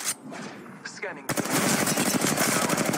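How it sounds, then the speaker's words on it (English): Rapid automatic gunfire in Apex Legends during a Season 5 ranked match, a dense rattling burst that kicks in partway through and keeps going loud and close, with game sounds and a voice heard before it. "Shots fired."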